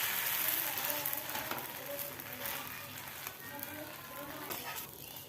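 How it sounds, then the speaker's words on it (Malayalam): Rava dosa crackles and sizzles on a hot oiled griddle after being flipped, a close, steady frying hiss with small popping bursts that eases slightly toward the end. "അടുപ്പ് തുറന്ന് ദോശ വെന്തിട്ടുണ്ട് ഒന്ന് തിരിച്ചിട്ട് കൊടുക്കാം."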